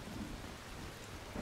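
Steady, dense rainfall with a low rumbling thunder fills the scene in the video game Soulmask, continuous and fairly close throughout with no voices.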